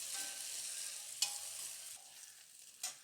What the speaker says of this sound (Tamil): நம்ம எடுத்து வச்சுருக்க தக்காளியை சேர்த்து ஒரு 20 செகண்ட் நல்லா வதக்கிக்கோங்க